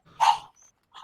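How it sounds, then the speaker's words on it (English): A dog gives a single short bark in a video game, a clear close yip followed by a faint trailing whimper-like sound, with no talk over it. "Oh, dogs."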